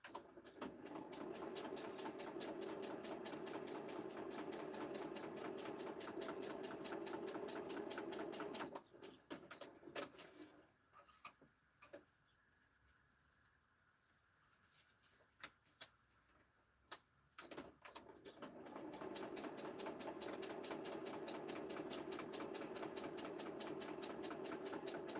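Sewing machine stitching along fabric edges in a home craft session, a long steady buzzing run, a brief stop with scattered clicks, then the same continuous whir resuming, fairly faint.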